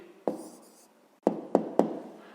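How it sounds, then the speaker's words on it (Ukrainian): A pen on paper as a math answer is written down, producing a few sharp, close taps and short scratching strokes separated by quiet pauses. "Зараз записуємо відповідь. Пишемо відповідь."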